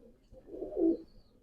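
A Rampuri pigeon in a breeding setup gives a single low, soft coo, close and fairly quiet, with nothing else heard around it.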